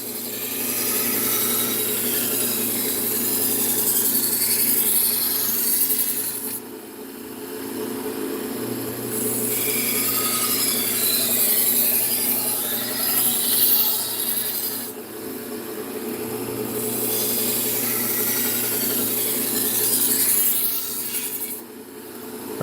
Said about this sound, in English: So I'm going to go back here to the Trizac and give it a couple more swipes.